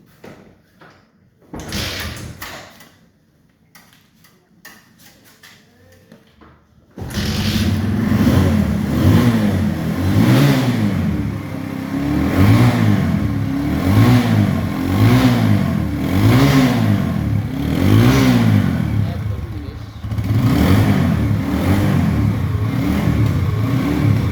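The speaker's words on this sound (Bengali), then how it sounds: "গাড়িটির সাউন্ড আপনারা দেখতে পারেন" A car engine in fresh condition runs loud and close, with a steady rumble that swells in repeated revs after a brief quieter start with a door-like sound.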